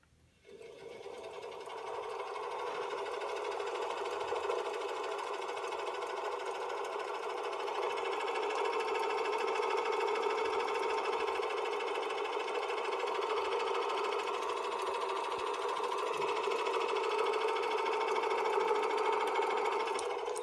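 A treadmill motor spun to work as a generator, wired to a 12-volt battery, gives a steady mid-pitched whine and hum that swells in the first two seconds and then holds even and continuous to the end.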